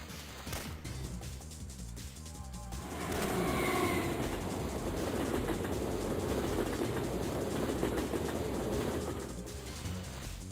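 A train in the Syphon Filter video game rumbles in after a quiet stretch, swelling into a sustained, fairly loud broadband roar that carries on steadily to the end.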